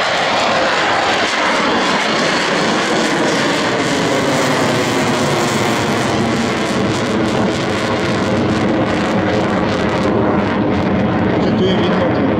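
An F-16 fighter jet performs a touch and go at the SIAF air show in Sliač, a loud, steady jet engine roar filling the air throughout, with a commentator talking over it.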